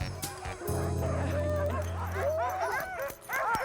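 Several sled dogs bark and yip excitedly in rapid, overlapping bursts, close by, over a steady low rumble.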